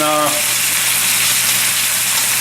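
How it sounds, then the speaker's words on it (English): Bacon-wrapped BBQ ribs sear in a pan, giving a loud, steady broadband sizzle throughout after a brief tonal hum at the start. "what I'm going to do is finish searing these up"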